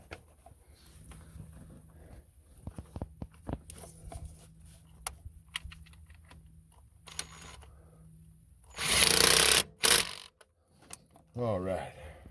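A tool works loose a fastener on a truck, producing a series of sharp mechanical clicks and ratcheting ticks, followed by a few louder bursts of clatter, with a voice briefly heard.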